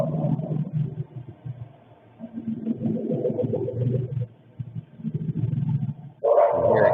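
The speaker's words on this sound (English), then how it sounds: "This dog barks forever." A dog barks on and off, distant and muffled under a steady low rumble outdoors, with a louder burst of noise at the end.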